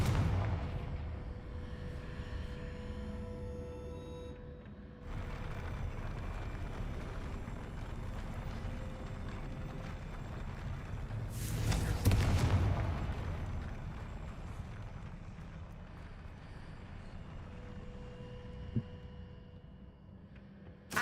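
Confringo fire spell in the video game Hogwarts Legacy lets off one loud booming blast midway through a steady rumbling game ambience, and its rolling tail fades slowly afterward.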